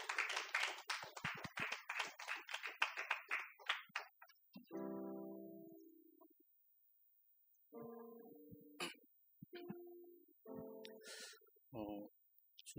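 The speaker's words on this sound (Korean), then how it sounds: "네, 박수." Quiet, brisk clapping from a church congregation at a Christmas thanksgiving service, welcoming a youth-group teacher forward, lasts about four seconds before giving way to sparse tonal voice sounds and pauses.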